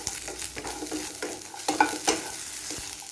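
Onion and coconut sautéing in a pan for mutton gravy, with soft sizzling broken by a run of scraping spatula strokes, close and moderately loud, no voices.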